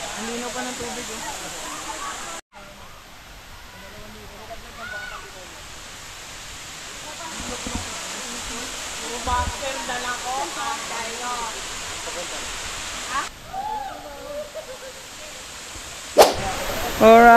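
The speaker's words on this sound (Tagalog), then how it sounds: "Daranac Falls na tayo." Daranac Falls pours in a constant broadband rush of water, with people talking over it and a few brief handling bumps and clicks near the end.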